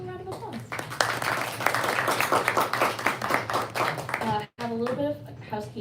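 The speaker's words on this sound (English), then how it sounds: "Give them a little round of applause." An audience at a book event gives a brief round of applause, a dense patter of clapping heard under and between a speaker's voice on a hall microphone.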